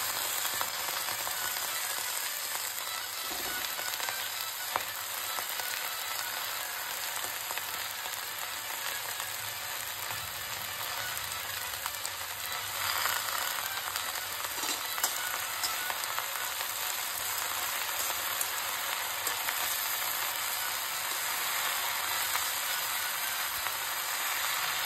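Raw stem amaranth greens fry in a hot pan, giving a steady, dense sizzle that holds evenly throughout with a few faint scrapes and clicks, with no voices.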